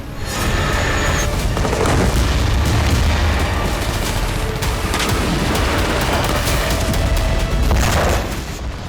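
Explosions and blasts echo around Al-Shifa hospital in Gaza amid ongoing fighting, a dense, continuous roar of booming impacts and crackling bursts that stays loud throughout, with several heavier thuds standing out.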